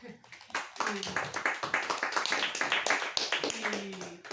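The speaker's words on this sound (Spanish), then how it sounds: "Un aplauso para él." A small audience claps for a reader at a Spanish book presentation, the separate hand claps sounding close and uneven under a voice that keeps speaking throughout.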